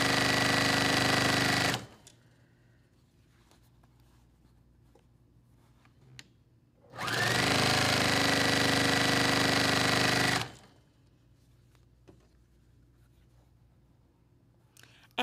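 A sewing machine runs in two close, steady bursts while piecing scrap fabric squares for a layer cake quilt, with a short run first and a longer run later and quiet gaps between them.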